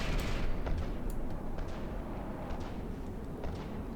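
Explosions from cluster missiles in the naval combat game From The Depths, heard as a dense, continuous rumble with several sharper bursts scattered across the stretch, loud throughout and with no talk over it.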